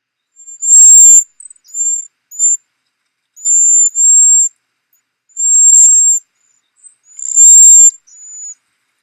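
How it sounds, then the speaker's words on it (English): A small bird that lingers near people in fruiting winter trees gives a series of very high, thin, piercing calls in five or six clear bursts against near silence. "So they are one of our really high-pitched birds"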